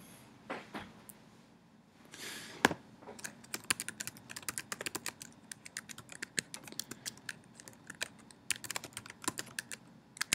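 Fingers type a username and password on a computer keyboard, giving irregular bursts of sharp, close key clicks in a quiet room, with a couple of duller knocks near the start.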